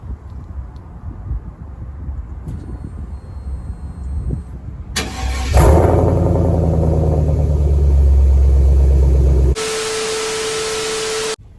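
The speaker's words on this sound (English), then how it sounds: "Before we head out, we're gonna do a little cold start." A pickup truck's engine cold-starts after quiet outdoor ambience: a short crank catches into a loud, rough, sustained idle roar, then gives way abruptly to a steady hissing wash with a faint tone through it.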